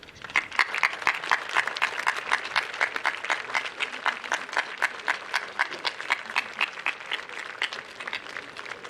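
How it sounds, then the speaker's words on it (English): At a high school class graduation, the audience claps in a strong, rhythmic unison beat, steady pulses of many hands keeping time at a moderate pace throughout. "please stand now and join me in a round of applause for your guests."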